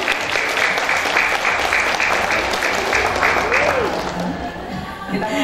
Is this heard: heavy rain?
no